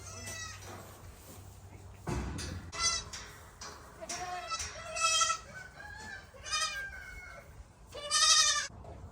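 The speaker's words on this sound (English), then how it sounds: "It's gonna be our show goat." Several goats bleat on a farm in spring, a string of loud, wavering calls in bursts, some close and some farther off, with faint background noise between them.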